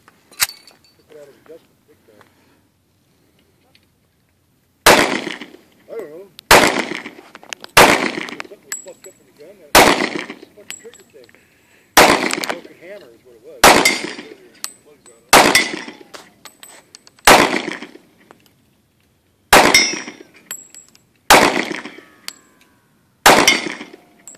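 A Springfield XD 45 compact pistol with a 3.8-inch barrel and an extended 13-round magazine fires about a dozen loud, close shots at a steady pace. Each crack rings out sharply, and a quiet stretch with faint sounds comes before the first shot.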